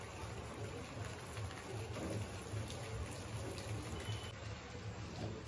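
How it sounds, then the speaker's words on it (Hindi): Steady morning rain falls in a dense, even hiss with soft low patter throughout, continuous and moderately close with no voices. "एंड यू कैन सी बारिश हो रही है आज"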